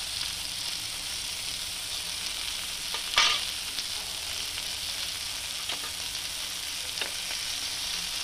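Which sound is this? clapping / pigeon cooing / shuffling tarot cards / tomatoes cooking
tomatoes cooking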